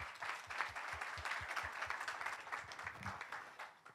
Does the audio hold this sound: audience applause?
yes